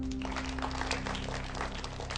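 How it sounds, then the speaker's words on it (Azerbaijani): An audience at a quiz show claps for the participants, a steady patter of applause at moderate distance with no talking over it. "Hər halda bütün iştirakçılarımızı alqışlayaq."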